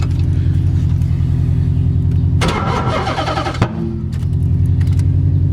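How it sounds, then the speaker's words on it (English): An LS1-swapped Nissan S14 with a weak battery idles roughly, then the starter cranks for about a second with a grinding churn before a sharp backfire pop and a return to the low, uneven idle. "every time I try to start it and it doesn't start because of a dead battery, there's always leftover fuel in the cylinders and it backfires"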